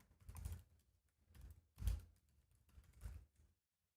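Keys on a computer keyboard clatter in four short, soft bursts as a curl command is typed at a Linux command line, then stop, with no voices.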